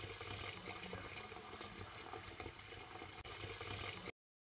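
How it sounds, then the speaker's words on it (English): Boiled rice grain is strained and rinsed under cool running water, a steady close rushing and splashing that continues without pause before cutting off abruptly. "immediately turn off the fire, strain the grain and cool it with water for some time"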